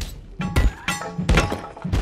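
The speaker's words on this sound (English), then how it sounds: "Oh no, my weapon broke." A weapon breaking in the video game Abiotic Factor, heard as a string of four heavy, dull thunks and cracking impacts spaced about half a second apart, loud and close.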